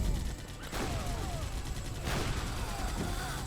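World War I–era field guns firing in the Age of Empires 3 Wars of Liberty strategy game, a dense crackle of rapid gunfire and booming shots over a steady battle din, with a few sharp bursts standing out.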